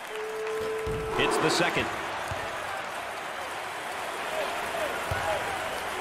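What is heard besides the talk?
basketball crowd cheering and applauding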